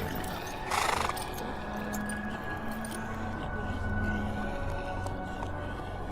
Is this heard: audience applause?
no